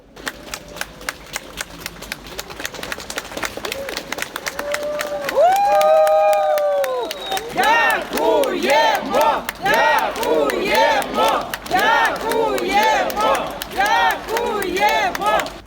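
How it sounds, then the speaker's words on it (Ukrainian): A large outdoor crowd cheers and gives an ovation as a presidential motorcade prepares to leave a castle square. It opens with scattered clapping, then rhythmic chanted shouts rise and repeat loudly. "Перш ніж кортеж дуди рушив, люди влаштували йому овації."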